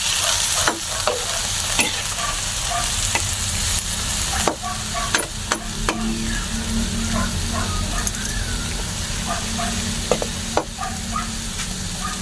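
Saluyot leaves being stirred with soy sauce in a cooking pot, giving a steady close sizzle with scattered clicks and scrapes of the utensil, no talking.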